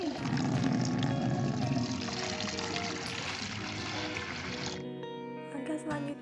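Four to five litres of clean water pour steadily into a container for making peanut-shell compost. The close, rushing stream runs continuously and then cuts off near the end, with a voice faintly present underneath.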